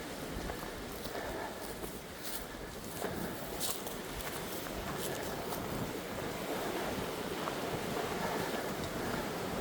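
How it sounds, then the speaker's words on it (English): Wind rushes across an exposed seaside park, a constant broadband buffeting with steady surf noise beneath and a few brief gusts, no voices. "It's a bit exposed up here, so I guess the wind will get us."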